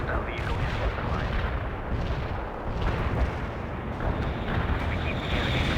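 Continuous artillery barrage in the video game World In Conflict, a dense rolling rumble of overlapping blasts and gunfire that stays loud and steady throughout, with radio-style unit chatter mixed in.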